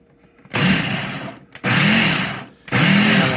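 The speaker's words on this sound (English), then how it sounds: "it's going to go in the blender and we're going to pulse." A blender pulsing pizza dough made with shortening, three loud, close whirring bursts of about one second each with short silent gaps between them.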